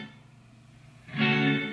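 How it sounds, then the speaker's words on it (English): A single electric guitar chord rings out, first dry and thin. Then it swells into a loud, wide wash of reverb that sustains to the end. "So you hear the clean signal dry, and then you hear the reverb after that."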